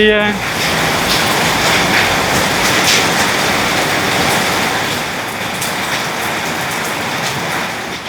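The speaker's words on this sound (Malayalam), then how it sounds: "മഴ പെയ്തു തുടങ്ങി" Heavy rain pours down outdoors during Onam cooking at home, a dense, continuous loud hiss of drops striking surfaces that holds steady for the whole stretch.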